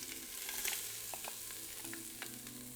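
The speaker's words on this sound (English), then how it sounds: "just add a little bit to the bottom of the pan, and let's throw in our onions and the carrots" Onions and carrots sauteing in olive oil in a large pot over medium-low heat give a steady, quiet sizzle with light crackles and occasional stirring scrapes, no talking.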